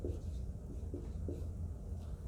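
A pen scratches across paper in short strokes, faint and close, as a chemistry half reaction is written out by hand.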